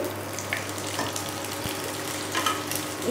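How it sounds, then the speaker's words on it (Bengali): Okra frying in a pan for a Bengali bhindi posto, with a soft, steady sizzle running the whole time and a few faint stirring clicks near the microphone. "এবার ভেন্ডিটা একটু ভেজে নিতে হবে।"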